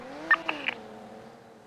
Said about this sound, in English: A lot of vehicles in the area.